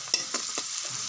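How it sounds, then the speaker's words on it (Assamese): Chopped onion, garlic, ginger and green chili fry in a pan for a mixed vegetable dish, a soft steady sizzle broken by a few quick stirring scrapes. "এইখিনি এতিয়া ভাজি থাকিম"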